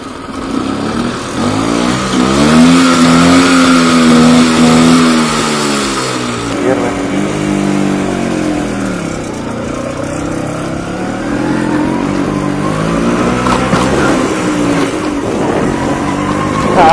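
A 20-year-old LML Vespa scooter runs while being ridden, its engine loud and close with a drone that rises and falls as it revs, while someone talks over it.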